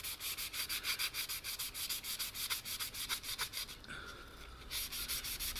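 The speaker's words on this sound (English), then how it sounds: "just flick the sanding sponge over to the finer grit" Steady rhythmic scratchy rubbing, quick back-and-forth strokes of a fine-grit sanding sponge on the hard plastic of an AMT USS Enterprise model kit, close up, with a brief pause near the end.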